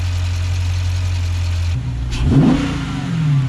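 A car engine with a shaker hood idles with a low steady rumble, then revs up sharply with a rising roar before settling again, close and loud.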